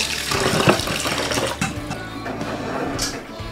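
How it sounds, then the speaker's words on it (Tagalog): Tap water runs steadily over raw chicken skin being washed in a kitchen sink, a close, continuous splashing rush that dips slightly near the end. "Balat ng manok. Ayan. Hugasan mo yung buti."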